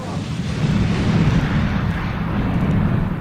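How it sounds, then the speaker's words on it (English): Explosion sound effect: a sustained, loud, deep roaring blast rumble that stays dense and heavy throughout without a sharp single onset, no voices. "a mysterious explosion happened in Darnley's house"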